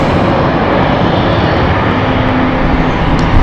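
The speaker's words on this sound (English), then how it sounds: "Because I can see aircraft lining up to land." Steady broadband roar of a fixed-wing aircraft engine approaching London City Airport to land, continuous and fairly loud throughout with no talk.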